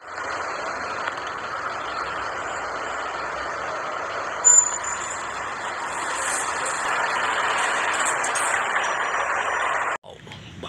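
A dump truck engine drones steadily at close range, with a brief air-brake hiss partway through and a faint high beeping, ending in an abrupt cutoff.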